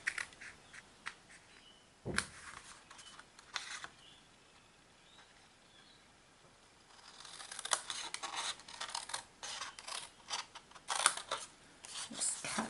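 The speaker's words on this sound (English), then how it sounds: "we're going to cut out those 3 squares" Scissors snip through paper to cut out three small squares, a run of short crisp cuts in quick bursts, close and fairly quiet, with a pause in the middle before the snipping picks up again.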